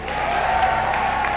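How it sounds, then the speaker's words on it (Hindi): Loud applause erupts from a comedy show audience, dense close clapping filling the moment without pause. "जोरदार तालियां"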